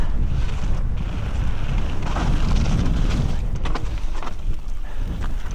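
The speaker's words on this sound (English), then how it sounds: "It is so windy." Strong wind buffets a camera mounted on a mountain bike, a steady loud roar of low rumble and broadband gusts filling the whole stretch with no break.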